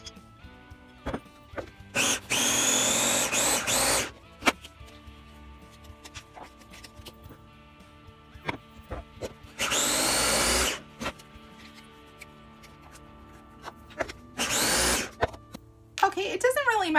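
A kitchen blender purees green aji verde sauce in three loud bursts of whirring, a long first run and two shorter ones, separated by quieter stretches of small handling sounds.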